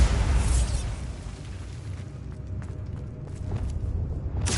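In Hogwarts Legacy, a Bombarda blasting spell detonates with a loud, broad boom that fades into rumbling debris and scattered crackles, ending in a fresh burst.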